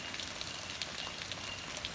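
Rain falls steadily outside a house, heard through a master bathroom window as a soft, even hiss with faint scattered drop taps, quiet and continuous with no voices.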